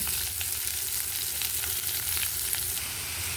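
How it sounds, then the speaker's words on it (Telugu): Onions frying in a hot pan with salt and turmeric, a steady close sizzle and crackle that runs without pause, with no voices. "ఇక్కడ ఆనియన్స్ వేస్తే ఇంకా బాగా వేగుతాను."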